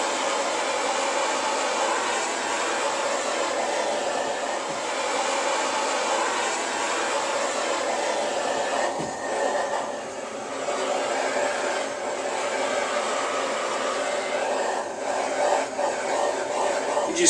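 Torch flame roaring steadily while heating a Harley-Davidson 883 Iron belly pan, a constant close hiss with no talking.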